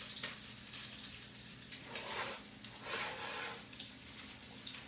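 Turkey ribs fry in an iron skillet, a steady hiss and crackle of hot oil that swells and eases in waves, close and fairly faint.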